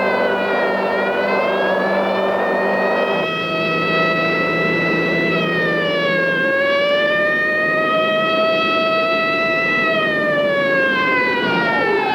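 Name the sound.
police car siren chasing a speeding car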